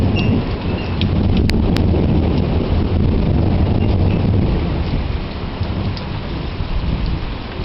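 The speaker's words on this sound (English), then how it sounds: "hear the thunder?" A heavy rainstorm gives a dense, steady pour with a deep rolling rumble of thunder underneath, plus a couple of sharp cracks early on, all heard close without voices.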